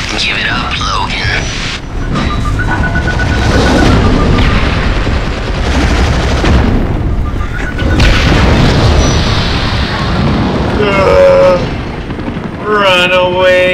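Missile blasts and heavy booms rumble through a snowy outdoor escape level of the PS2 game X-Men Origins: Wolverine, loud and sustained with gunfire-like bursts, while a voice speaks briefly over the din.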